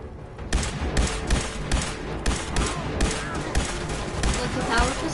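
Gunfire from the Fallout 4 video game goes off in a rapid string of sharp, punchy shots at irregular intervals, with a voice talking faintly underneath.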